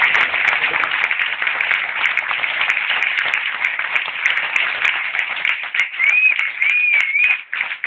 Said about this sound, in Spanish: quiero pedir un fuerte aplauso a mi amigo